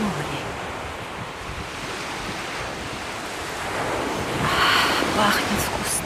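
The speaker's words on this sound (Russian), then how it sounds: "Море, море." Sea waves wash steadily along a southern Spanish coast, a continuous broad rushing surf with wind across the microphone, swelling slightly louder near the end.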